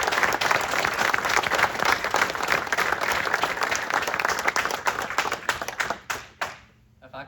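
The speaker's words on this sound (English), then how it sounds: "Let's give our new Eagle Scout one more round of applause" An audience at an Eagle Scout Court of Honor gives a loud, sustained round of applause for a new Eagle Scout, with crowd noise underneath, before the clapping thins out to a few last claps and quiet.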